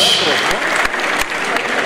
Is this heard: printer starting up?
no